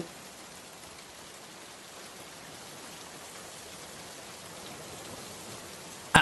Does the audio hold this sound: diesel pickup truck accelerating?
no